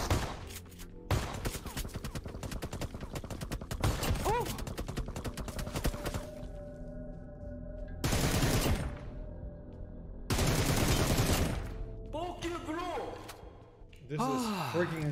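Rapid bursts of gunfire in the mobile game PUBG Mobile, including pump shotgun blasts, come in dense volleys broken by short pauses, with game effects and excited commentary layered over the shots.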